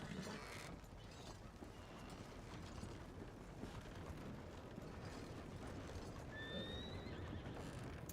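In a video game, hooves clip-clop steadily over rough background noise, and a horse lets out a short, high whinny near the end.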